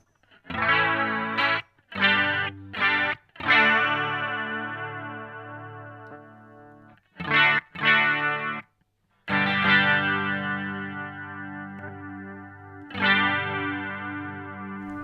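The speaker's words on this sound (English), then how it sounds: "Hear the chorus getting a little bit deeper there" Electric guitar chords through a Boss CE-2W chorus pedal ringing out with a lush, wavering chorus effect, played in short strums and longer sustained phrases with brief pauses between.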